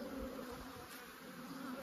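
Honeybees at an apiary hive make a steady droning buzz, close and continuous at low volume, with no voices over it.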